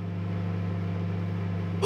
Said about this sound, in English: Why is the microwave on?